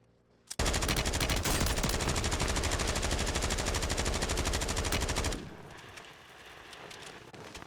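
Sustained automatic gunfire in the video game Warzone, wall-banging an enemy: a loud, dense burst of rapid shots lasting about five seconds, then cutting off to quieter game ambience.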